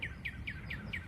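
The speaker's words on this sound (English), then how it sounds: "You hear those birds singing?" Birds, including a cardinal, chirp outdoors in a faint, regular series of five quick descending whistled notes, spaced evenly over a low background hum.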